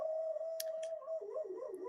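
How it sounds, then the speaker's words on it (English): A dog's long howl holds a steady, sustained pitch at first, then wavers and bends up and down toward the end, moderately loud and alone with no talk. "my dog picks the worst time to howl."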